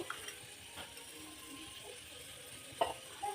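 Frying in a pan during preparation of hotel-style vermicelli payasa, with ghee mentioned: a faint, steady sizzle with a few soft stirring clinks, no voices.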